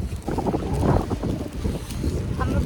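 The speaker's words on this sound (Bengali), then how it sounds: "বিভৎস রকম ঠান্ডা আর হাওয়া বইছে" Cold, strong wind gusting across the microphone on a rainy street in Japan, a continuous low rumbling buffet that swells and dips throughout without any speech.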